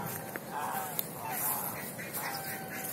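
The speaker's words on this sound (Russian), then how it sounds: "Такие вот гуси." Geese at a workplace in central Moscow honking and gabbling steadily as a flock, close to a phone microphone, amid broadband outdoor noise.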